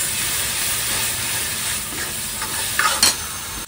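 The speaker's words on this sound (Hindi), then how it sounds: "और इसको अच्छे से कर देंगे मिक्स।" Spice masala with salt, turmeric, coriander and red chilli being stirred in a kadai, a steady close sizzle with scraping spoon strokes, louder scrapes near the end.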